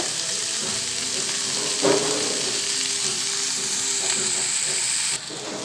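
Onions frying in a pan give off a steady, fairly loud close sizzle, with one brief louder stir partway through and a slight drop in level near the end.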